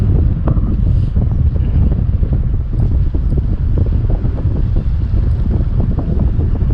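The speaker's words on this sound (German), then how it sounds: "Aber wir haben doch Wind von vorn." Steady headwind buffets a cyclist's microphone during a long-distance ride, a loud continuous low roar and rumble filling the whole stretch with no voices.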